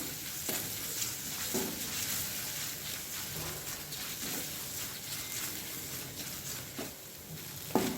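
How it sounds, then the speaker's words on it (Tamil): Ginger frying in a pan for a spicy mushroom thokku, a quiet steady sizzle with a spatula scraping through it every second or so. "இப்போது இஞ்சியோட பச்சை வாசனை எல்லாம் போகிற வரைக்கும் நம்ம வந்து வதக்கிக்கலாம்"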